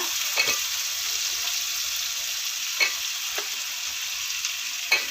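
Fried soybeans sauté in a pan for a gravy, giving a steady hiss of frying under a few spaced scrapes of a spoon, heard close with no speech.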